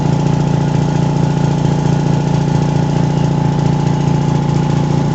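A 1937 Dodge engine running at a steady speed after repair, with loud, close, continuous mechanical drone and an even rhythmic chug throughout.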